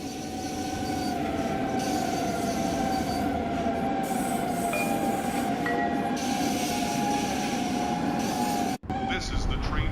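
A subway train from Train Sim World 5 on a New York route rumbles steadily past up close, a loud continuous roar with a sustained metallic wheel squeal, then cuts off abruptly near the end.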